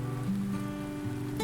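Rain falling on a polythene shelter in a Bangla cartoon, a steady, close patter under a continuous background tone.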